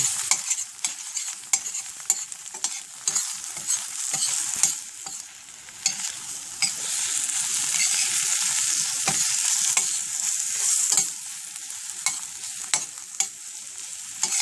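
Eggs fry in a hot pan for a half-fry, giving a continuous crackling sizzle with bright spatter pops and occasional scraping stirs, moderately close and unbroken by talk.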